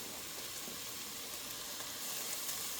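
A beef burger mixture browns in a pan, giving a continuous, even sizzle close by at a low, steady level, with no speech.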